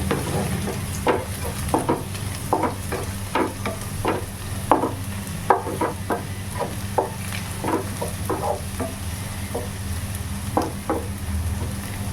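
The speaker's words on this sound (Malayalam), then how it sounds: "നമ്മുടെ സവാളയൊക്കെ ഇവിടെ വഴണ്ടു വരാൻ തുടങ്ങിയിട്ടുണ്ട്" Onions sautéing in a pan for chicken curry, an even sizzle under frequent stirring scrapes and clicks of a spoon against the pan, fairly loud and close, with no voices.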